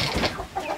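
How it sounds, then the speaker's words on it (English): Chickens cluck softly nearby in a brief, busy burst of overlapping calls. "We decided to put the bigger chickens in with all of our chickens now"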